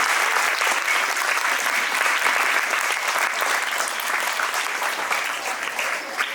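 Audience applause welcoming an invited guest, a retired forest officer, at a formal gathering: steady, dense clapping from a sizeable crowd, sustained at even loudness throughout with no talk over it.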